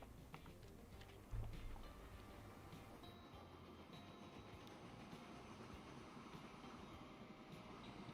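Train passing in Transport Fever 2, a faint, steady rumble of wheels and carriages with light rhythmic clicking from the rails, sustained and fairly distant with no voices.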